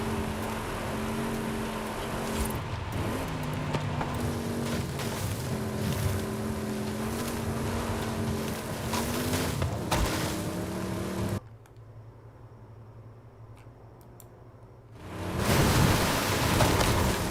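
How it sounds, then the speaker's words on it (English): A level 6 Porsche in a racing video game, its engine a loud, continuous drone whose pitch climbs and falls with gear changes, cutting to a quieter hum before surging back. "Gets into a level 6 Porsche."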